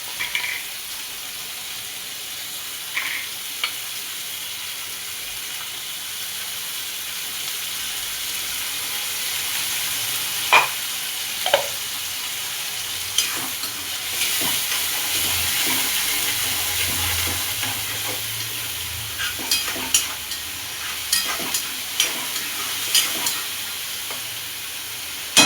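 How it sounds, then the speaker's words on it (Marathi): Tomatoes and tomato puree sizzle in a pan of matar paneer gravy, a steady frying hiss broken by scraping clicks of stirring, close and continuous with no talking. "आता मी याच्यामध्ये लगेच टोमॅटो टाकून घेणार. आपण प्युरी केली ती पण टाकून घेणार आहे मी"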